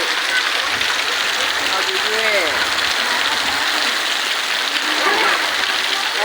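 Steady rain pours over Khodamali village, a dense, even hiss of falling water that fills the whole scene, with faint voices briefly rising beneath it.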